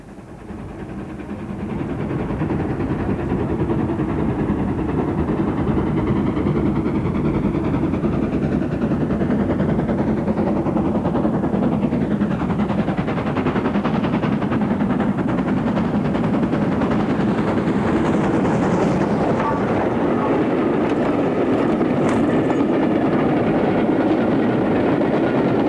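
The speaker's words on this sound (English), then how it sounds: "we see 1306 on a demonstration run, showing once again the method of picking up mail bags by a travelling post office" LNER steam locomotive 1306 on a demonstration run with a travelling post office mail train, a steady loud rumbling roar of the train running past close by, continuous throughout with no talk.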